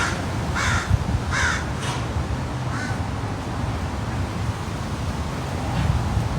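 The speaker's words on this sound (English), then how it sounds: "Those are crows over there." Several crows cawing outdoors, three or four harsh calls in quick succession in the first few seconds, fairly close, over steady wind and low background rumble, then fading into ambient noise.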